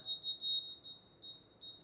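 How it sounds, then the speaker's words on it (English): A DeWalt green cross line laser target detector beeps in short high electronic tones, several quick pulses followed by a few spaced chirps, close and fairly quiet. "Now my target starts to beep and it's telling me, hey, we see the green laser."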